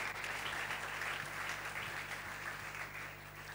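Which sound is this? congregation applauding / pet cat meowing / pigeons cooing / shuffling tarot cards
congregation applauding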